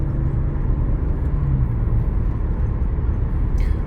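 Audi A4 B6 Cabrio convertible cruising on a highway, a loud steady engine and road rumble with wind noise throughout, unbroken and close.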